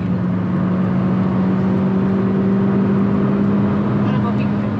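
A car being driven on a road in a fast street time-attack run, with a steady loud engine hum and road rumble throughout and people talking over it inside the cabin.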